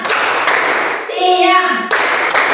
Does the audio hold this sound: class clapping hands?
yes